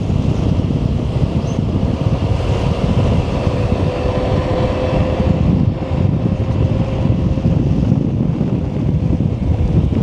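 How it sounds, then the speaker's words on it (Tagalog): Strong, steady seaside wind roars and buffets the microphone throughout, a constant loud rush with no voices. "Malakas masyado yung hangin. Kasi tabi lang ng baybay."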